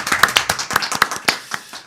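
An audience claps at the start of a church book-introduction session, a short burst of quick, irregular claps from a few people nearby.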